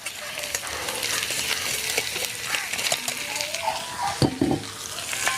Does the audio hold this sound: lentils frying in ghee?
yes